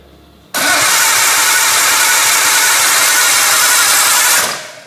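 A Nissan R32 Skyline engine, freshly installed during a barn-find restoration, cranks over on its starter for about four seconds. It is a loud, steady, fast whirring churn that cuts in abruptly and tapers off at the end, with no talking.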